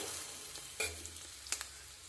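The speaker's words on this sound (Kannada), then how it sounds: "ಒಗ್ಗರಣೆ ಹಾಕೋಣ ಈಗ ಗ್ರೇವಿ ಸ್ಟಾರ್ಟ್ ಮಾಡೋಣ" Spices for tempering crackle and sizzle in hot oil in a pan as the gravy begins, with a few sharp pops and stirring scrapes over a low, steady fry; close-up, and no one speaks.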